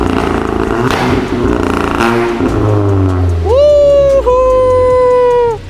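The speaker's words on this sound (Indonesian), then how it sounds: "Pertama kali kita bisa launch control di Polo." A tuned Stage 2 VW Polo with cold air intake, engine and transmission warmed up and traction control off, rises in a sharp climbing rev for a launch control start after people talk inside the car.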